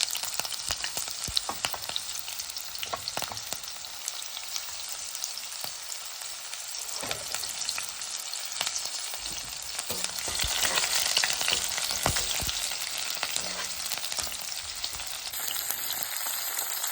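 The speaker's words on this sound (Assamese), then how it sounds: "এতিয়া তেল গৰম হৈ গৈছে, মই দি দিছোঁ এয়া পিঁয়াজ আৰু কেইটামান জলকীয়া।" Onions and a few green chillies fry in hot oil in a pan, giving a continuous crackling sizzle with stirring clatter and bursts of louder spattering, with no voices.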